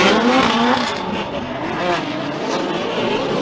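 Formula Drift cars at Palm Beach in 2015 racing through a chase run: a loud, continuous roar of engines with revving, shifting pitch and tire noise, close and sustained throughout.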